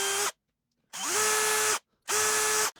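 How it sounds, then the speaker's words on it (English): A power drill bores new locating holes for the plate on a Hohner Rockwood Pro 250 guitar, three close, loud bursts of whirring motor, each spinning up to a steady whine and then cutting off, separated by short silences. "We'll just drill some new holes to locate it,"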